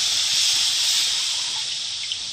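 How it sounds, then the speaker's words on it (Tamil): Jaggery solution pours into a pan for sweet kozhukkattai, a continuous close liquid hiss and gush that runs steadily for the whole moment. "இந்த மண்டவெல்லை கரைசலில் ஊற்றி"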